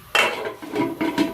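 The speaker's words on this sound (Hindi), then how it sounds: "फिर उसके ऊपर ढक्कन रखा" A few soft metallic clanks and taps as a lid is set onto a cooking pot of turnip pickle and settles, close by.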